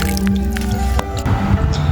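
Peeled shrimp are washed by hand in water, giving close, wet squishes, sloshes and drips in quick irregular bursts with no talk.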